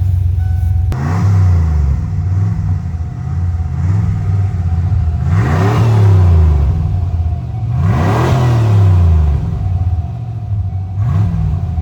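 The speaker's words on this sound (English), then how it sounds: "let me crawl in there and give it some gas" A Ford F150 pickup's engine, just restarted after a fuel tank replacement, runs at a steady idle and is revved twice as gas is applied, each rev rising and falling back, loud and close with no talk.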